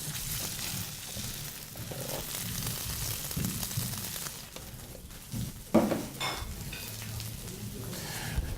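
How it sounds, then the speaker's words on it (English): A cumin-crusted pork chop sears in hot oil in a pan on a stovetop, a steady sizzle and crackle with occasional clinks of utensils against the pan, close and moderately loud. "And all I'm doing is searing that up"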